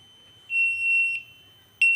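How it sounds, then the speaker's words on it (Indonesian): A ship's BNWAS main alarm buzzer, run by an Outseal Mega V1 controller, sounds a shrill steady electronic tone for under a second, falls silent, then starts again abruptly. No one speaks. "Buzzer utama juga sudah menyala."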